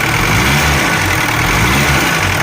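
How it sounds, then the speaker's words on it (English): A loud, rough diesel engine of a 1967 Mercedes 200D W110 idles steadily nearby after a fuel filter change, a constant clattering rumble with no voices over it. "I know it's still loud, but this is those old diesels. But a lot less vibration, nice idle."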